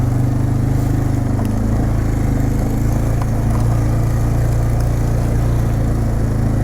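A 2006 Polaris Sportsman 500 EFI ATV creeps along at about 5 mph in high range, its engine droning steadily and close by with a constant low rumble throughout.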